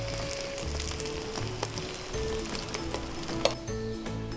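Fried rice and vegetables are stirred together in a pot while frying, with a steady low sizzle and scattered scraping and clinking of the utensil, fairly quiet and without talk.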